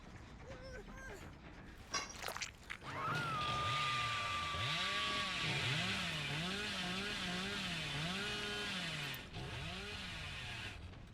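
A chainsaw in a video game revs with a continuous wavering buzz that rises and falls, loud and sustained for most of the stretch under a commentator's voice, with a brief crash near the start.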